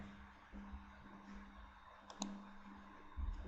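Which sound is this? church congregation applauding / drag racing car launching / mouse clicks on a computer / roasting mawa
mouse clicks on a computer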